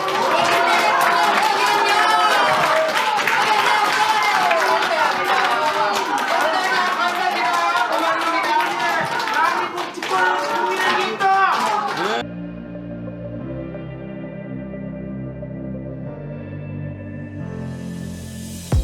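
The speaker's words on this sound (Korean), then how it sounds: "힘찬 박수를 모아주십시오" An audience at a political press conference claps and chatters, with a busy wash of crowd noise and voices for about twelve seconds before it cuts to quieter background sound.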